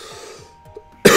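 A single sharp, loud cough bursts out near the end after a quiet stretch of faint sounds and breathing.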